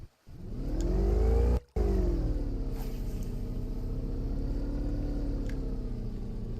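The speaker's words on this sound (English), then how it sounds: "Bro terrified me with that engine revving up." A boat engine in the fishing game Fishing Planet revs loudly and steadily, with a sharp cut-out and restart before settling into a sustained drone.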